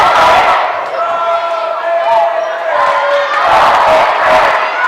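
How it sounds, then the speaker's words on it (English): A large crowd at a high school volleyball match in a gymnasium cheers and roars steadily, a dense wash of voices that swells and dips, with some talk mixed in. "Now you hear the crowd starting to get into it a little bit more."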